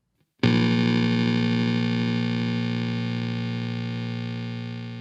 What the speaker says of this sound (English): Some of the fun of this pedal is getting those glitchy, dissonant sounds